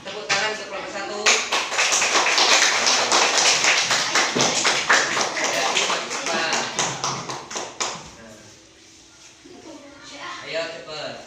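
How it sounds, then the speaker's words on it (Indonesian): Schoolchildren in a fifth-grade classroom clap for a group presenting, a dense burst of applause that fades after several seconds, followed by scattered claps, with children's voices mixed in. "Tepuk tangan untuk kelompok 1"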